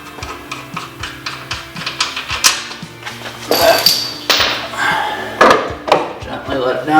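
A ratchet tightens the top bolt of a BC Racing coilover on a Scion FR-S/BRZ, clicking in quick, regular strokes with short pauses and some metallic scraping between them.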